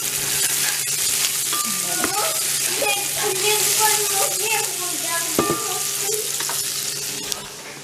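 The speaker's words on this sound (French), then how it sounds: "on rajoutera des lardons qui sont en train de cuire" Bacon lardons sizzle and crackle steadily in a frying pan, a constant close frying hiss with occasional stirring clinks and a faint voice in the background.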